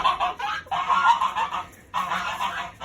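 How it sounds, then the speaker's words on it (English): Geese honk loudly and close by in repeated harsh, nasal bursts, in two long runs separated by a brief pause. "open up the door to get more light in here without the geese honking like crazy"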